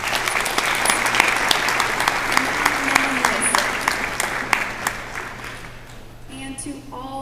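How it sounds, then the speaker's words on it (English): A year-end celebration audience gives a round of loud, sustained applause, with dense clapping that gradually fades before a voice starts speaking at the end. "So another round of applause."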